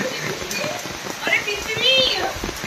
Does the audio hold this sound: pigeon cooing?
no